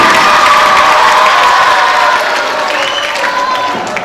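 Crowd clapping and cheering at a Gandhi Jayanti programme, loud and dense from the start, with shouts mixed into the applause before it eases slightly toward the end.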